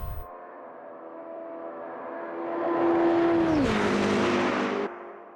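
A race car engine in a racing simulator game, Le Mans Ultimate or Automobilista 2, drones steadily, then rises and swells loud before the pitch drops and the sound cuts off sharply.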